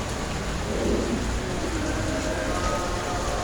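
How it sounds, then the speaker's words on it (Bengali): Heavy rain pours down steadily in a dense, constant roar while thunder rumbles low beneath it, with no voices heard. "বৃষ্টি অনেক বেশি না"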